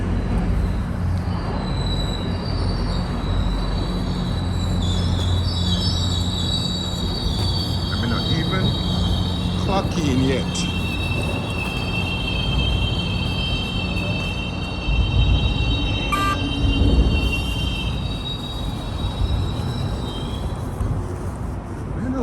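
A GO Train rolls into a station platform with a steady low rumble, squealing wheels and long high screeches from the rails, continuous and fairly close, with brief talk over it.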